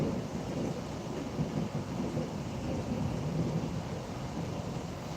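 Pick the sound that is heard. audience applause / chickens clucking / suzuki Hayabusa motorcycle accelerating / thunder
thunder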